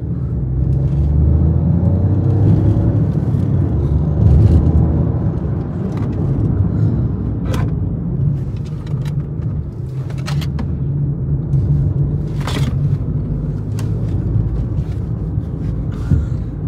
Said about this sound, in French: donc une petite conduite urbaine